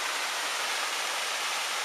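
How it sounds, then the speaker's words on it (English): A tiny forest waterfall on a woodland circuit walk pours in a steady, close hiss of falling water, continuous and even with no voices over it. "Another cracking little waterfall,"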